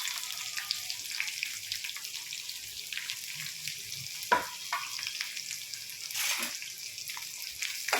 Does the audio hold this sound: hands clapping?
no